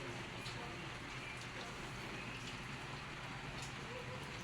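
Steady rain falling and pattering on a surface, a soft, even hiss with no break throughout.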